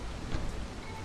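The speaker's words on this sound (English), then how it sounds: "now that it's raining, people are going to lose resolve" Steady, soft rain hiss in a city-building video game, a faint continuous wash with no talk.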